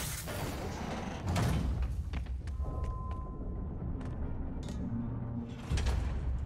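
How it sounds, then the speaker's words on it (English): A heavy trap door slides and thuds open in Marvel's Spider-Man Remastered, with mechanical scraping and a couple of knocks over dense game ambience and music. "Trap door."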